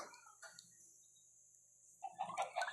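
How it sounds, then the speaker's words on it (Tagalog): Soft clucking of video game chickens in Minecraft, faint at first and then a few louder clucks toward the end, over a steady electronic hum. "Meron akong mga manok dito."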